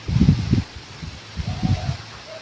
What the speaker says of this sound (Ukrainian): Дуже вітер сильний сьогодні.